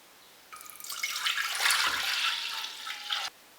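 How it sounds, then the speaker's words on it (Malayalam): Coconut milk pours into a pressure cooker for fenugreek rice porridge, a close, continuous liquid splash lasting about three seconds that begins and stops abruptly, with quiet background before and after. "പ്രഷർ കുക്കറിലേക്ക് തേങ്ങയുടെ 2 പാൽ ഒഴിക്കാം"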